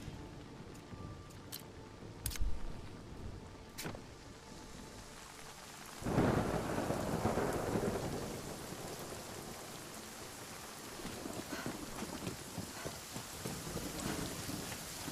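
Steady rain patters in the Victorian survival game Nightingale, with faint distant thunder and a louder rolling thunderclap that swells midway before easing back into the soft, continuous downpour.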